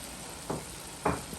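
Scallions dropped into a pan of Guyanese cabbage and chicken, giving two short, quiet bursts of sizzle and stirring against a low, steady background.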